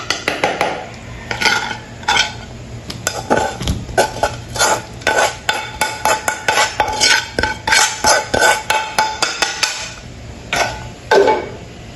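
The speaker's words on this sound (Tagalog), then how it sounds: "ilalagay na natin ang ating sisig sa ginawa nating sauce" Tuna sisig being stirred into its mayonnaise-based sauce in a pan, with a busy run of close, sharp utensil scrapes and clinks against the pan in quick irregular rhythm, no talking.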